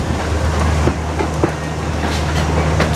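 The Pleasure Beach Express amusement park train at Blackpool Pleasure Beach rolls past close by with a loud, steady rumble and rhythmic clickety-clack of wheels on track.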